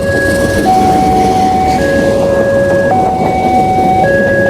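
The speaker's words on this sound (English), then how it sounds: "We're going to wait for a train to come, and I'm going to get that on camera." A railway crossing warning bell rings in steady alternating two-tone chimes, loud and close, over the continuous rumble of an economy train passing through the crossing in Bandung, Indonesia.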